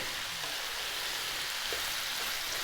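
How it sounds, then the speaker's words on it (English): Onions and garlic fry in a pan for a lamb hotpot, giving a steady, close hiss and sizzle with no talking. "Get these onions cooked in with that garlic."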